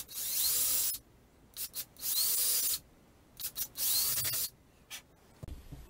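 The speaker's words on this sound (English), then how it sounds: "Now I'm ready to take this battery gun." A cordless battery drill bores indents into the back of a bolt-on guitar neck in several short, separate bursts of whirring, three of them longer, with quiet gaps between and low overall loudness.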